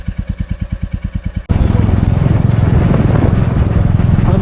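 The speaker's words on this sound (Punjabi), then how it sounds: "ਅੱਜ ਇੱਕੇ ਮੋਟਰਸਾਈਕਲ ਤੇ ਜਾ ਰਹੇ ਸੀ ਦੋਏ ਜਣੇ" A motorcycle carrying two riders starts with a rapid, loud pulsing engine chug, then switches abruptly into a dense, roaring wind and engine rush as it rides along, with a voice faintly mixed in.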